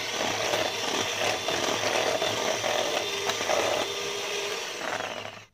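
Eggs with vanilla essence and a pinch of salt beaten for a semolina basbousa cake, a steady close whirring churn that cuts off at the end.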